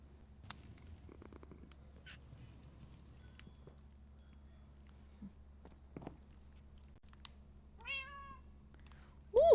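Near the end, a cat lets out a short rising meow, followed by a louder cry. Before that come quiet shuffles, soft thumps and a faint low hum in a calm indoor room.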